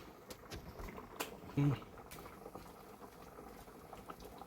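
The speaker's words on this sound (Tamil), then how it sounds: "சாம்பார் பாருங்கள் நல்லா கொதிச்சுக்கிட்டு இருக்குது" Sambar bubbles at a steady boil in a pot, a faint continuous simmering patter heard close by and low in level, with no talking over it.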